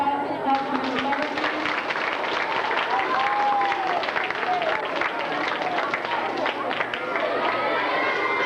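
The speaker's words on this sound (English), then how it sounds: "Let's give a round of applause for Mr." Children's audience at an elementary school rally clapping after a magic show, a steady dense wash of applause and crowd noise throughout with voices mixed in.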